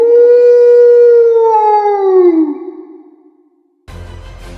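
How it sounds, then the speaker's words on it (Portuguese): A werewolf howl sound effect rises loud and close in one long, sustained wavering cry that slowly falls in pitch and fades away, followed by a burst of rough noise. "esse bicho deu um uivo muito alto"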